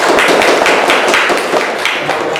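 An audience in a school gathering at SDN 07 Teladan Bukittinggi applauds loudly and steadily, many hands clapping close by for a couple of seconds with no pause.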